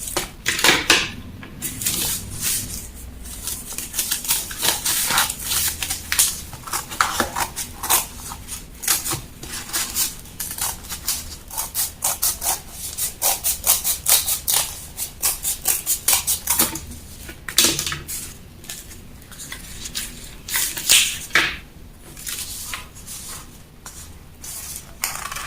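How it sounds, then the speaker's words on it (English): Fabric and paper being cut with scissors while the front pattern piece for a bustier is cut out, a steady run of crisp snips and rustling close by with no talk. "Let's cut out the front pattern."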